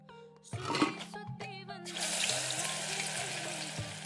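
Food fries in sizzling oil in the video game Venba, a broad hiss that swells and holds steady through the second half, with a voice speaking briefly near the start.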